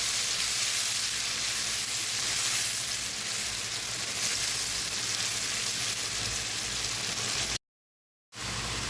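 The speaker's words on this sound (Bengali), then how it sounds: "এখন পেঁয়াজ আদা রসুনটা একটু ভালো করে ভেজে নেব" Onion paste, ginger paste and garlic paste frying in a pan for a pabda fish bhuna, a constant loud sizzle and hiss that runs evenly for about eight seconds before cutting out abruptly.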